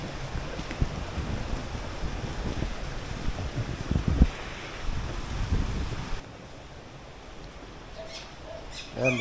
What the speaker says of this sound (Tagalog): Hangin na lang, medyo lumakas yung hangin konti.